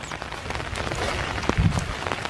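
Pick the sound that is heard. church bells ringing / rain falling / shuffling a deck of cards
rain falling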